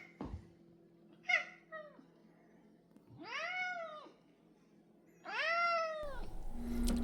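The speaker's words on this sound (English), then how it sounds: "Hey, there's Toby the shop cat." A cat meows three times in a woodworking shop, with drawn-out rising and falling calls that sit close and moderately loud over a low steady hum, followed by a brief burst of shop noise.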